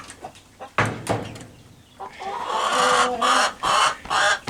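Chickens cluck and squawk in a cage of about twenty birds, a burst of sharp calls early on and then a denser run of loud, overlapping clucking through the rest of the clip.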